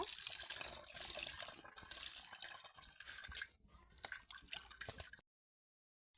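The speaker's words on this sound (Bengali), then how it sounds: "এখন একটু পানি দিয়ে নুডলসটাকে ঠান্ডা করে নিব।" Water poured over boiled noodles in a strainer to cool them, a continuous splashing trickle with dripping that fades and stops toward the end.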